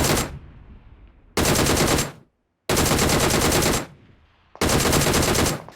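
DP-28 machine gun bursts in PUBG Mobile: three loud, sustained automatic bursts, each about a second long, separated by short quiet gaps, close and without talk.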